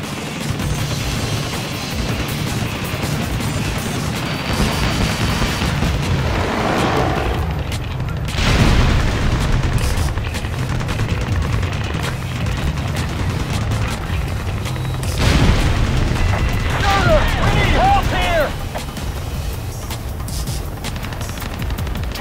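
Heavy combat in the helicopter action game Ace Combat Assault Horizon: repeated gunfire bursts and deep explosion booms crash over a rumbling background, with loud impacts hitting twice and faint radio chatter beneath.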